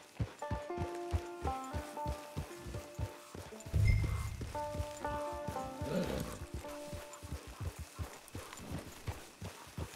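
Steady clip-clop of horse hooves walking at an even pace in the video game Red Dead Online, close by, with a brief low rumble partway through and background music.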